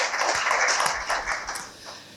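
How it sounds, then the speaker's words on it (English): Applause from an audience at a business research colloquium: dense, steady clapping across the room, fairly soft and even, fading slightly toward the end with no voices over it. "let's give them a big round of applause for starting this program"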